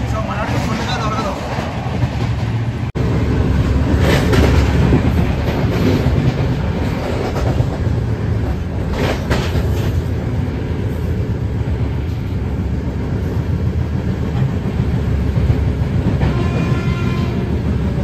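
Telangana Express train running on the rails between New Delhi and Hyderabad, heard from inside a coach as a loud, continuous rumble with rhythmic clickety-clack of wheels over joints throughout.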